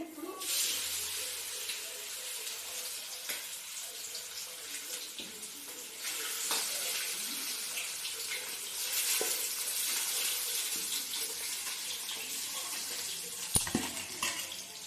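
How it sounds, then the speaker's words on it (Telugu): Three fish frying in hot oil in a home kitchen, a steady, fairly faint bubbling sizzle running throughout with occasional clinks and stirring sounds. "ఇప్పుడు నేను 3 చేపలు ఫ్రై అయితే చేస్తున్నానండి"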